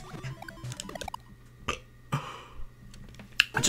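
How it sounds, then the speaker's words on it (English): A man lets out a brief throaty burp while playing Super Mario Bros. 2, with chirpy game sound effects and blips scattered around it. "I just burped and some steam came out."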